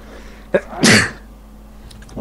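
One sharp, loud sneeze bursts out close to the microphone, with a quick intake of breath just before it and quiet background hum around it.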